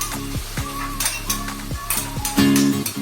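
Ginger paste sizzles and fries in a hot pan while being stirred, with repeated scraping strokes of a spoon against the metal and a steady crackle of frying underneath.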